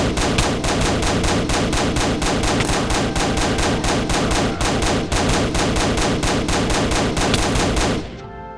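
Guns in a video game fire in a long, unbroken burst of rapid automatic shots, loud and dense for about eight seconds before cutting off abruptly.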